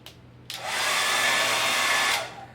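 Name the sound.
hair dryer running on a power station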